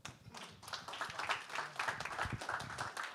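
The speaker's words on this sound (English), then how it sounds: "Come on, clap for our Executive Director of Bright Star CDC, Carl" Audience at a Greater Bronzeville community partnership breakfast claps for a Bright Star CDC director, a steady, fairly dense wash of hand claps filling the room at moderate level, with faint murmuring underneath.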